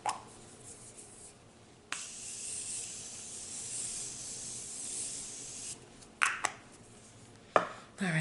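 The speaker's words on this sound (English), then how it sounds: "So I'm going to go in with my Morphe setting spray." A Morphe setting spray mists onto a face in a quiet room: a long soft hiss followed by a few short, sharper spritzes near the end, close and fairly faint, with no voices.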